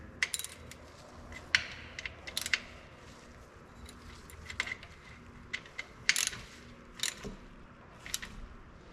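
Ratchet reinstalling the oil drain plug on a 2023 Polaris Ranger 1000 XP during its first 25-hour service, heard as a run of close, sharp metallic clicks and bursts spread across the whole stretch, with no talk.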